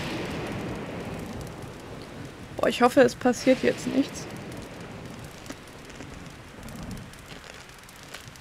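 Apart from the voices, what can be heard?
rain and thunderstorm in video game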